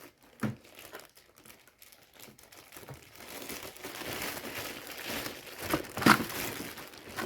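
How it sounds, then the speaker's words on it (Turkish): A plastic bag is pulled open with loud, close crinkling and rustling that builds over several seconds, after a few quieter handling sounds. "bize ekstra olarak poşetle gelen kısmı açtığımızda"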